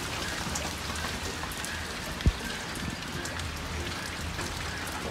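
Rain falling steadily at Copenhagen Zoo, a dense, continuous patter of drops on surfaces with a single sharp thump partway through and no talking.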